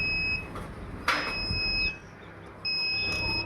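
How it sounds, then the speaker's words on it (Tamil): An egg incubator's door-open alarm sounds as a high electronic beeping tone in two stretches separated by a brief gap, with a clatter between them, moderately loud over a quiet background with no talking. "டோர் ஓப்பன் பண்ணி வச்சுருக்கனால இப்போ அலாரம் அடிக்குது."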